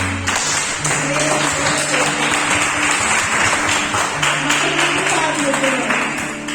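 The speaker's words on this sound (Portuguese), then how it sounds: "Você pode aplaudir o Senhor?" A congregation applauding during a Sunday church service, with sustained dense clapping over a steady low sustained tone, continuous and loud throughout.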